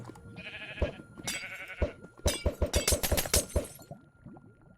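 Sheep in the Minecraft video game give several short bleats mixed with a rapid run of sharp cracking and breaking game sounds, loud and close with no talk.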